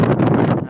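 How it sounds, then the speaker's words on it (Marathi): Strong wind at Radhanagari dam buffets a handheld phone's microphone, giving a loud, rough gusting roar throughout the short moment with no talk. "माझा मोबाईल इतका व्हायब्रेट होतो या वाऱ्यामुळे ना."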